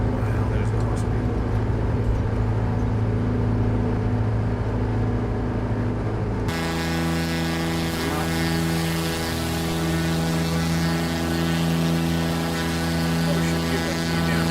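Steady, loud aircraft engine drone in a flight simulator, a continuous tonal hum that shifts pitch partway through, with a voice talking over it.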